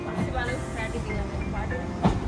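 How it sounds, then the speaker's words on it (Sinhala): A small local train rumbles steadily as it approaches a village station in Japan, a continuous close rolling sound with a brief squeal near the end while someone talks over it. "ගිනි පෙට්ටි කෝච්චි එනවා."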